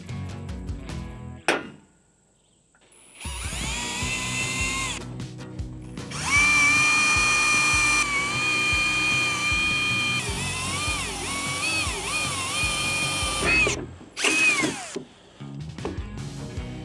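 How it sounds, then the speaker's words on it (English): A power drill runs through metal with a thread-forming bit during a mountain cabin build, a steady high whine rising and bending in pitch over several long bursts, loud and close, with short pauses and no talking. "it drills in the top, makes the hole slightly larger"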